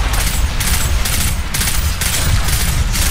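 Automatic gunfire sprays in a video game, a loud, continuous rattling burst of rapid shots that pulses in regular waves with no pauses.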